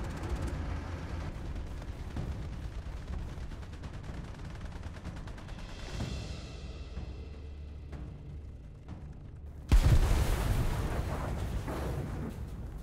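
Gunfire from the War Thunder tank game, with dense bursts of machine-gun fire and booming shots rolling continuously, then a sharp loud blast near the end.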